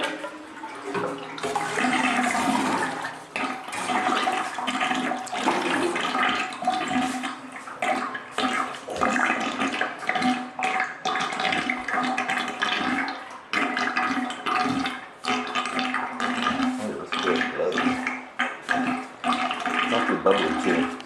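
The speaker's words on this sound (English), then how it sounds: "I'm going to drain this." Murky water from a soapless mud bath drains out of a bathtub with a steady, loud rushing gurgle that continues for the whole stretch, with no voices heard.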